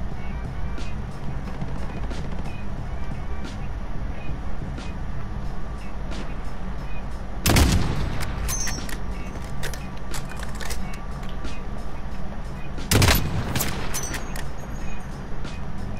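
Two sharp sniper rifle shots ring out in Call of Duty Warzone, spaced several seconds apart over a steady game backdrop of wind and engine drone, with a voice talking faintly beneath.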